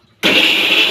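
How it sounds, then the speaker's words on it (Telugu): A kitchen mixer grinder kicks on abruptly and runs at a loud, steady whine as it blends tomatoes and cashews in its jar. "మిక్సీ పడుతున్నా"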